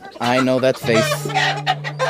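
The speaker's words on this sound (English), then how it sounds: "We're in his chicken coop" Hens in a backyard chicken coop give short, close clucks and throaty calls while a person talks over them.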